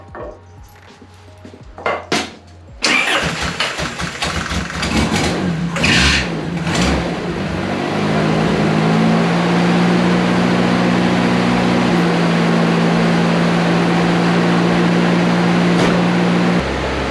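A 1976 Toyota Celica GT engine cranks and catches on starting fluid after a few knocks and clatters, then settles into a loud, steady, close idle with a droning hum.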